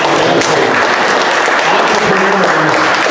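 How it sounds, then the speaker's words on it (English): Audience applause at a program launch event for entrepreneurs, a dense steady wash of clapping filling the room throughout with a faint voice underneath. "A round of applause for these three"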